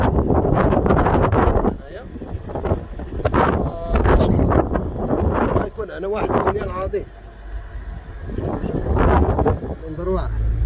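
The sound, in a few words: strong wind outdoors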